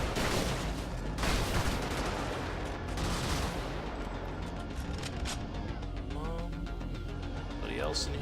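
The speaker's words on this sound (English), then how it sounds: "Shoot through some houses here." Continuous heavy gunfire from a mech blasting through residential houses in the video game Brigador, dense and loud for the whole stretch with bursts and crumbling debris throughout.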